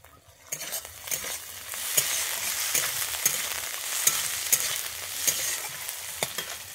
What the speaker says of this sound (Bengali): এর মধ্যে আমি দিয়ে দিচ্ছি মটরশুঁটি।